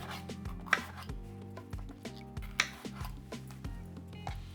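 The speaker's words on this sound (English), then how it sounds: "Let's do our green pepper. Let's cut these up into little strips." A knife cuts a green pepper into strips on a cutting board, sounding as a steady run of close, crisp chops over a low hum of music, with two sharper knocks standing out.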